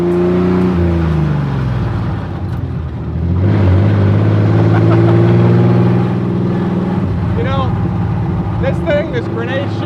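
Old truck engine droning steadily as it pulls through a canyon road, loud and close, with pitch shifting between gears and a voice talking over it near the end.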